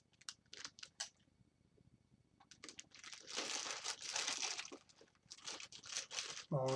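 Close plastic crinkling and rustling in bursts, louder in the middle, as a bag is handled and pulled apart.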